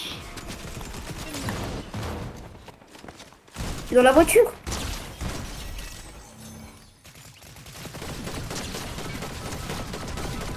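Pistol fire in a French zero-build battle-royale video game, a burst of sharp shots landing mid-clip with players talking over the surrounding game audio.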